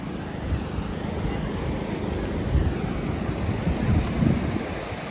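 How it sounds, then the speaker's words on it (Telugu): Sea waves roll in at Chirala Vadarevu beach, a steady broadband surf roar with gusting wind across the microphone and a few louder surges. "అల్ల కూడా వస్తున్నాయి బాగా"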